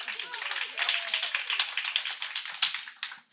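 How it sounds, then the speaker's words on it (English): Audience applause at a consumer impact summit session, a dense wash of many hands clapping that stays steady for a few seconds before thinning and dropping away at the end. "Applause."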